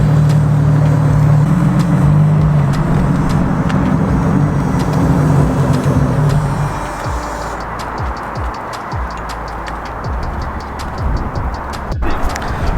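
An LS-swapped Nissan 350Z race car, unregistered, drives on public streets with a loud, steady engine drone and low rumble, easing off into a rougher idle-like burble with small ticks partway through.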